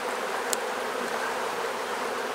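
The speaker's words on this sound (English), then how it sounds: "Lots and lots of bees." Honeybees swarm and buzz in a steady, dense drone during a hive inspection. The hum stays close and continuous throughout, with no one talking.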